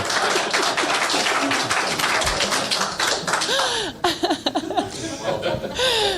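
A woman clapping at a retreat, rapid steady handclaps mixed with laughter and chuckling from the group, with a few voices breaking through near the end.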